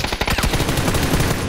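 Loud, rapid gunfire in a PUBG match on the Miramar desert map, dense overlapping automatic bursts filling the whole moment at close range.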